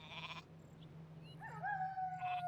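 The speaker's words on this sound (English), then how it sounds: "The sheep is a legit sheep." A sheep bleats in the Warcraft 3 strategy game, a short wavering bleat rising near the end over a steady low game hum, with a brief tone at the very start.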